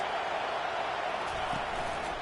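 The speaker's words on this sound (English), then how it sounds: "Listen to this crowd just shaking the girders of this place, trying to help their defense." A large stadium crowd at a football game roars continuously to urge on the home defense, a dense, distant-sounding wash of cheering noise that holds steady throughout.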